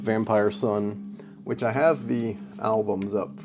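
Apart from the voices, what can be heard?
None of the usual background noises is heard.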